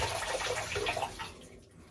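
A washcloth is lifted from a bowl of cold water, giving close splashing and dripping that fades to quiet over two seconds.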